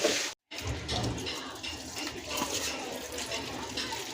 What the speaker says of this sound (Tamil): இப்போ நல்லா கழுவி வாஷ் பண்ணி எடுத்துகிட்டு வந்துடுறேன்